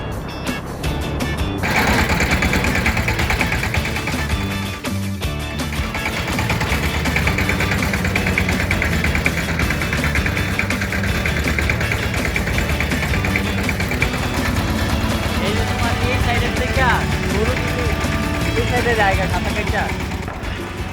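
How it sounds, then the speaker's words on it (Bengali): A river trawler boat's engine drones loudly and steadily for the whole stretch, a dense, unbroken mechanical rumble with no pauses. "তারপর আমরা একটা ট্রলারে উঠলাম।"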